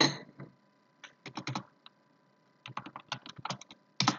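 Short bursts of typing on a computer keyboard, clear close clicks in quick clusters separated by pauses, with no talking.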